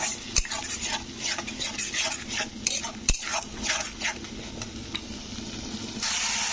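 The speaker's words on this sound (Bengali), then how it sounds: "তো টমেটো পেস্টটা নাড়তে হবে।" Tomato paste being stirred in a frying pan for a curry of katla fish roe, a steady close sizzle broken by scraping spatula strokes and a couple of sharp clinks against the pan.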